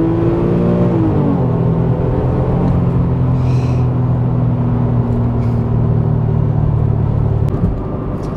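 A Porsche 911 Carrera S Cabriolet accelerates hard from a standstill, its engine climbing loud and close through the revs with a brief shift dip, then holding a steady powerful drone for several seconds with no talk.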